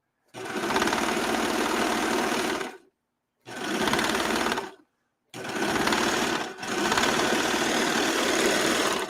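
A sewing machine runs in three bursts of rapid, steady stitching, separated by short pauses, close and loud.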